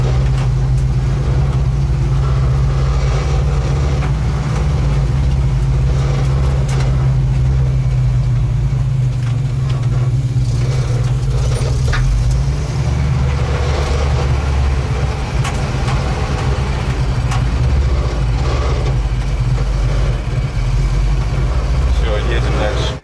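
A GAZ-66 truck setting off across rough off-road ground toward a river crossing, its engine a loud, steady low drone throughout with rattles and bumps, and people talking over it.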